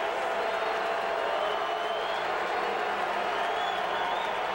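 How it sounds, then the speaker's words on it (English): A football stadium crowd roars at a Canadian Football League game between the BC Lions and the Edmonton Eskimos in Edmonton. The cheering is a steady, dense wash of noise from many voices. "Here comes the crowd now"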